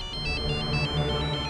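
A mobile phone ringtone plays for an incoming call, a steady repeating electronic melody heard close and alone.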